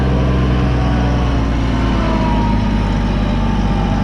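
Four-wheel-drive tractor pushing through snow, a loud, steady low engine drone with a constant rumble, close and continuous, no talking.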